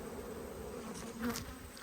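Honey bees buzz faintly and steadily at an opened hive during an inspection, a soft continuous hum with a slightly louder swell partway through.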